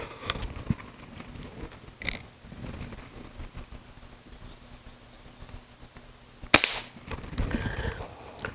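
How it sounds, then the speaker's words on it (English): An air gun is fired to release its air, giving two sharp cracks several seconds apart against quiet mechanical rustling and handling noise. "Let me just shoot this off to release the air here."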